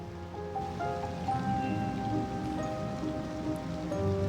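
Steady rain falls and patters continuously in the game Cities: Skylines II, with soft musical tones sustained underneath.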